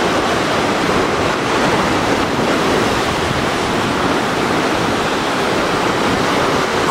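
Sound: sea waves at high tide on the beach

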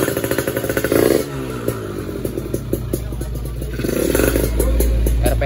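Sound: motorcycle engine started and revving after grounding install

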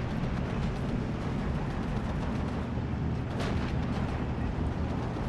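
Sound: tank shells and gunfire from the video game Steel Division 2

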